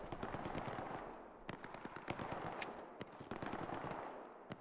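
Gunfire in the World War II shooter game Hell Let Loose around Sainte-Mère-Église: dense, continuous bursts of automatic weapon fire mixed with scattered single shots, fairly distant and rattling steadily without letup.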